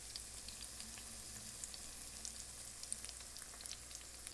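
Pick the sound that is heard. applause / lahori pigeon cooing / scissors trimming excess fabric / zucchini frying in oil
zucchini frying in oil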